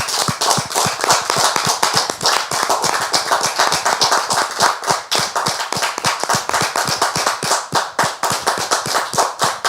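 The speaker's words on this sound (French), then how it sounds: "je vous demande, très cher public, de les recevoir avec vos applaudissements" A studio audience at a French-language church program applauds to welcome invited guests, a dense and steady burst of many hands clapping that stays loud and close for the whole stretch with no talk over it.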